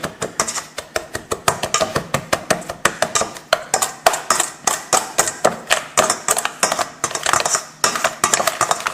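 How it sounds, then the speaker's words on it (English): Pastry blender working light brown sugar into flour in a bowl, a rapid series of sharp metallic clicks and taps repeating steadily and close up. "I'm going to use it with the pastry blender."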